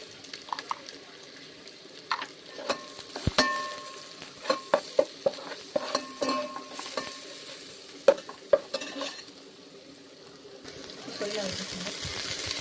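Onion, chillies and ginger-garlic paste frying in a pan, a low sizzle broken by frequent sharp clinks and scrapes of a spatula against the metal, irregular and close, with a louder hissing surge near the end.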